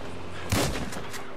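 A single gunshot fired in GTA 5, a sharp broadband crack at mid-clip that drops into a short echoing tail, followed by fainter repeated bursts under steady game ambience.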